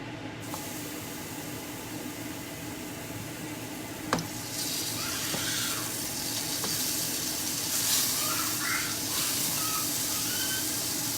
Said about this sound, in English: watch when I do this, it's gonna be so hot. Watch how it sizzles.